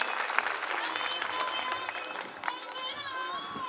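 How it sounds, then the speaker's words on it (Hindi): Audience at a government polytechnic's annual function and alumni meet applauding to welcome a chief guest, a local legislator, with continuous crowd clapping mixed with chatter and voices. "इनका जोरदार तालियों से स्वागत करें।"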